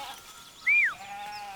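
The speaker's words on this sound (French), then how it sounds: "On va traire les brebis." A single short bleat from a dairy ewe on a farm in the Périgord countryside, fairly close and clear against a quiet rural background.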